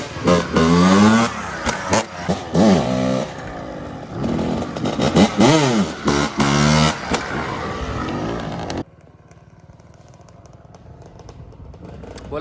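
Motorcycle engine on light throttle during wheelie practice, a loud close revving drone with rising and falling pitch sweeps for about nine seconds before dropping abruptly to a quieter low idle rumble.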